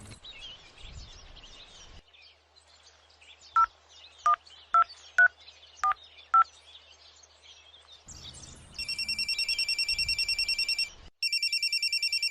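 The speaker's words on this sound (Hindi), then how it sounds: "पहले लाला को फोन तो कर लूं," Six separate telephone keypad tones beep one after another at uneven intervals, then a phone's ringing tone pulses loudly.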